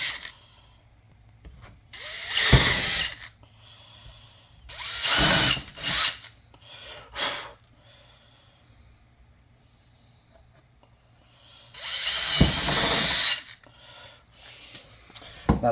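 DeWalt power drill boring pilot holes with a small bit, three loud whirring bursts separated by quiet pauses, close up and without talk.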